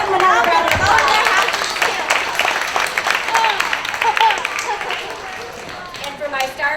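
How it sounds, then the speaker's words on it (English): A school assembly crowd claps for students in a sustained burst of dense, close applause that gradually thins out, with voices talking over it. "Let's give them another round of applause."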